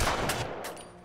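Gunfire in The Last of Us rings out as a brief burst of a few muffled shots with a broadband rushing tail, moderately quiet, with no talking.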